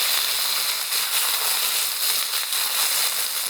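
Boiling water poured into a hot wok of snow peas fried with garlic gives a steady, loud hiss and sizzle throughout, with no pauses.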